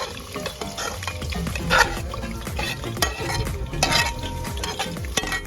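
Potato curry frying with onion and turmeric in a pot, loud close sizzling under constant stirring with frequent metal scrapes and clatter of utensils.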